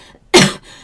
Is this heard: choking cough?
yes